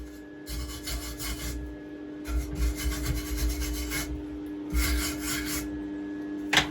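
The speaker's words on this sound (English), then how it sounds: "Thank the Lord for grinders." A grinder smooths a metal part during a pit bike restoration, giving repeated bursts of harsh abrasive rasping over a steady motor hum, close and continuous, with brief pauses between passes.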